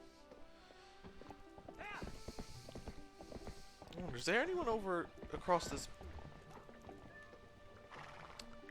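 Horse hooves clip-clop in The Legend of Zelda: Twilight Princess, steady and fairly soft under a voice, with a brief whinny partway through.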